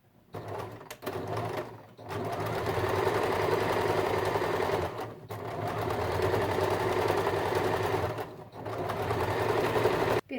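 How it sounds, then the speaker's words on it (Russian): A sewing machine runs a regular straight seam at presser-foot width, its close, steady mechanical whir starting and stopping in three long runs separated by short pauses. "И прокладываем обычную строчку на ширину лапки, либо на сантиметр."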